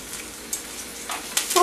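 Eggplant pan frying in oil: a faint, soft sizzle with a few sharper crackles and spits near the end, close and quiet with no talk.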